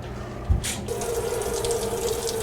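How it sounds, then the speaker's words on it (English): Hot water runs slowly and steadily from a tap or kettle into a bowl of oatmeal, a soft continuous trickle after a brief clunk, close and alone without talk. "make sure the water's going slow"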